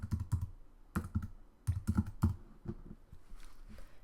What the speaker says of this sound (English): I'll type in Instagram.